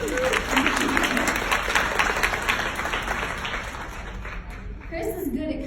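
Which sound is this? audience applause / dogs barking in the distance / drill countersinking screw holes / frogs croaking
audience applause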